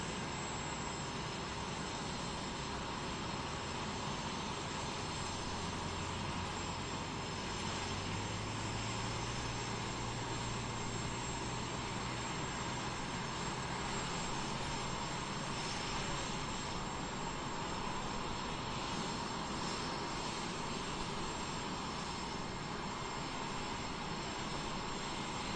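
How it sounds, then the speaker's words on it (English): De Havilland Vampire twin-boom jet flying at an air show, a steady distant engine roar that holds throughout with a slight rising drone partway through. "Twin boom, De Havilland Vampire."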